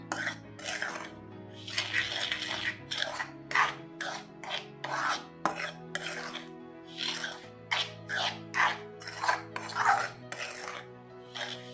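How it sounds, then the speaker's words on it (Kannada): Hot semolina and sugar are stirred together in a bowl for rava laddu, giving repeated gritty scraping and rubbing strokes in a steady rhythm, close and clear, with a faint tonal hum underneath. "ಸಕ್ಕರೆ ಎಲ್ಲ ರವಕ್ಕೂ ಇಟ್ಕೊಂಡಿರ್ತೀವಿ ಹೀಗೆಲ್ಲ ಚೆಂದಾಗಿ ಮಿಕ್ಸ್ ಮಾಡ್ತೀವಿ"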